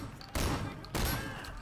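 Two loud gunshot bursts in the Sleeping Dogs video game, each a sharp crack followed by a booming, rumbling tail, spaced about half a second apart.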